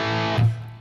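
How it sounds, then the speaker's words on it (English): An electric guitar with steady distortion, gain set on 7, holds a sustained buzzing chord that is abruptly choked off into a brief low thud and fading hum. "You need steady distortion, set the gain level on 7"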